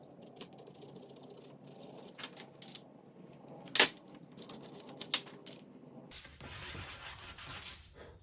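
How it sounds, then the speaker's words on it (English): A Pedersoli screw barrel Liege derringer kit part is hand-sanded to remove pencil marks, giving a steady, close rubbing scratch with occasional sharper scrapes and a brighter, harsher burst of sanding near the end. "Now sand just enough to take the pencil marks off"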